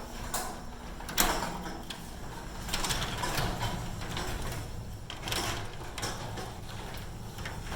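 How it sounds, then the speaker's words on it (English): A repaired sectional garage door rolls along its tracks with a steady mechanical rumble and light rattling, fairly quiet and even, with a few soft clicks and creaks. "The door closes nice and easy."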